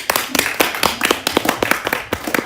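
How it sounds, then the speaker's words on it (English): Scattered, fairly quick handclaps from an audience at a 2022 conference session in Ghana, individual claps standing out close and distinct over roughly two and a half seconds. "Ghana deserves a round of applause"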